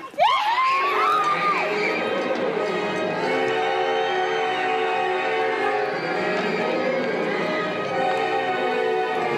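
A group of people shouts together in a sustained, loud, crowded roar that carries on for several seconds, with a rising whistle-like cry at the start.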